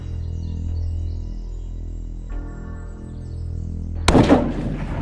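A single sharp gunshot during a hunt rings out near the end, loud and abrupt after a few quiet seconds of outdoor ambience.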